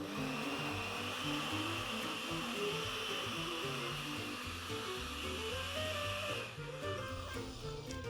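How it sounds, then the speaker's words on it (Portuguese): A blender whirs steadily and loudly, its motor pitch shifting as it churns, with no talking. "ajudar o seu liquidificador que está sofrendo"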